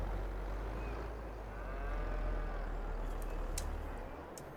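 Cows moo faintly in the Farming Simulator 22 video game, a soft lowing call rising in the middle over a constant engine rumble, followed by a few sharp clicks.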